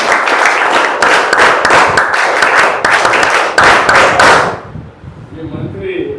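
A group of people clapping together in quick, steady bursts, loud and close, with short breaks between rounds. The clapping stops abruptly and a quieter murmur of voices follows.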